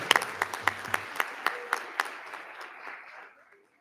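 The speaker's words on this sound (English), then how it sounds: "Another round of applause for Nathaniel." A small group at a board meeting claps, with distinct claps in a loose rhythm that thin out and fade over a few seconds, with faint voices underneath.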